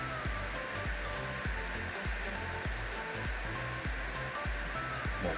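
A heat gun blows steady, loud rushing airflow with a roaring hiss, continuous throughout, over a faint repeating low thump, during motorcycle repair work.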